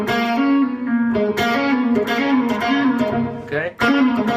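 Distorted electric guitar slowly working through a fast phrase, a loud, sustained run of notes with a brief dip near the end before the line resumes, heard close and on its own.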